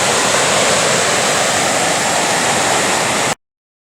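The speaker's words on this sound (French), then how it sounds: "Cascade que j'aime bien, donc je me fais plaisir." A mountain waterfall cascade in the Queyras roars with a loud, steady, broadband rush of falling water close to the microphone, then cuts off abruptly.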